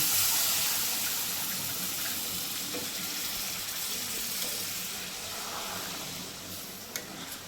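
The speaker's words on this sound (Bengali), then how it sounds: "এখন জল দিয়ে দিয়েছে" Water is poured into a shrimp kofta curry cooking in a pan, producing a continuous broad hissing gush that gradually softens, with a couple of small clinks near the end.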